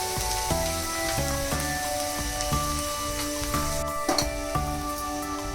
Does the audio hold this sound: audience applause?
no